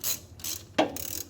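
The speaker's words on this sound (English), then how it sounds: "Get the clamp loosened up enough that I can get it over the" Hose clamp being loosened on an upper radiator hose of a car: a few short metallic ratcheting clicks and scrapes in quick bursts, close and fairly quiet, with no talking.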